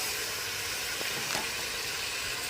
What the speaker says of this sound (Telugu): ఇప్పుడు టమాటాస్ వేసేసుకుందాం మనం పీసెస్గా కట్ చేసుకొని